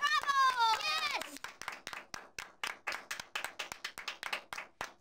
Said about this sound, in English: You can stop clapping.